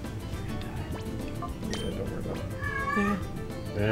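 A cat meows and yowls nearby in a home, a couple of drawn-out cries near the end over low rumbling background noise and faint voices.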